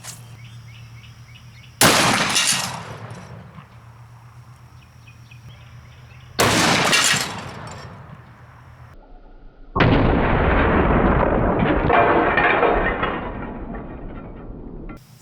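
A Smith & Wesson 500 Magnum revolver fires 350 grain Xtreme Penetrator rounds into ballistics gel outdoors: three loud, sharp blasts spaced several seconds apart, each trailing off in a rolling echo, the last one longest.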